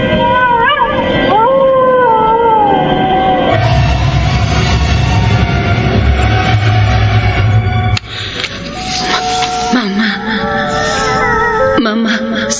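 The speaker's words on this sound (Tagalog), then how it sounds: "Huwag mo nang pansinin ang mga asong umaalulong sa labas." Several dogs howl outside at night in a Filipino horror radio drama, long wavering wails rising and falling loudly over background music and effects, with a voice speaking partway through.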